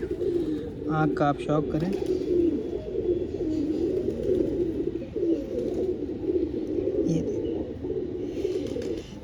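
Soft, low cooing of an old Rampuri Kalanch pigeon repeats beneath someone talking, with a few brief higher bird chirps in between.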